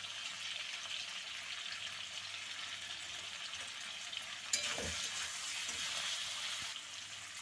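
Hot oil sizzles steadily in a pan as cumin powder goes in for a rui fish curry, with a brief clink and stir partway through, close and continuous without talk.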